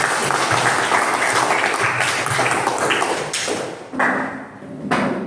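Classroom of students clapping hands together, a dense, sustained burst of applause lasting several seconds, then tapering off into scattered claps and quieter room noise.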